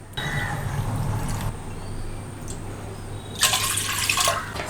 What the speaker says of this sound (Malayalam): 3 ഗ്ലാസ് വെള്ളം ഒഴിച്ചു കൊടുക്കുന്നത്.